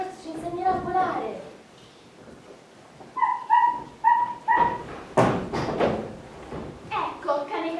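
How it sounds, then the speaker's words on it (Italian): A dog barks in short repeated yips during a theatre performance, several clear barks in a row amid speech and a voice. "Ecco, cane cattivo."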